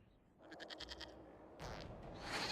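A goat in the video game Dragon Age Inquisition bleats in a short burst of wavering, quavering cries, fairly close and fairly faint over a soft game ambience, followed by a brief rustle.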